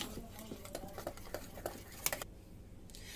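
Chicken being mixed into a spiced masala marinade for murg mussalam, a quick run of small wet squelches and clicks that stops abruptly, leaving near quiet.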